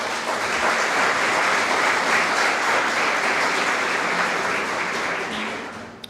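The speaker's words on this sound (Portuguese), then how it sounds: "Aplauda o Senhor" A church congregation applauds during a Portuguese sermon, a dense, steady wash of many hands clapping together at full strength for about six seconds before easing slightly at the end.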